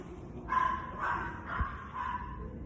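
A dog barks outside a hotel in a small town in Spain, four short yapping barks in a steady rhythm at moderate distance over a quiet background.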